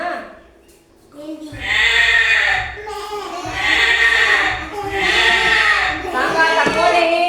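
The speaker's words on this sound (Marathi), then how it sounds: "बकरी. बकरी कशी करते?" Goat bleats loudly three times in a row, each cry long and wavering, close and clear with no talking over it.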